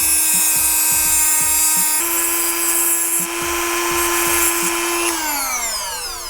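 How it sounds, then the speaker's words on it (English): A Dremel rotary tool cuts a metal part while a front camera is fitted to a Land Cruiser. A loud, steady high whine shifts pitch under load, with rhythmic grinding pulses, close and continuous. "So we're gonna Dremel the back part just to kind of make it a straight line."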